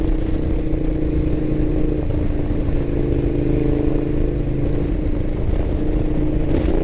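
A 2012 Ducati Diavel motorcycle rides slowly, its engine a steady, loud drone smeared with road and wind noise that holds evenly throughout, with no clear revs or shifts.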